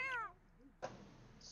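A cat in The Sims 4 gives one short, clear meow up close, followed by a brief soft chirp and then a sudden burst of game noise.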